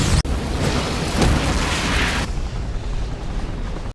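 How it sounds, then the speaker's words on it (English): Movie ship explosion as a vessel's fuel tank is shot and erupts into a massive fireball, a sudden loud blast followed by a sustained roaring rumble that slowly settles into a lower, lingering roar. "The resulting explosion engulfed the vessel in a massive fireball."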